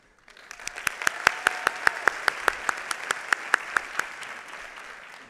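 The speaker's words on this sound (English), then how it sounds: "We applaud our SJD graduates." An audience at a law school commencement applauds SJD graduates, a dense crowd clapping with a few sharp individual claps standing out in a steady rhythm before it tapers off.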